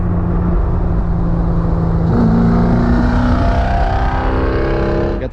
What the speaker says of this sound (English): we're gonna get this car back to the house.